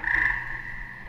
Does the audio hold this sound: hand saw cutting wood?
no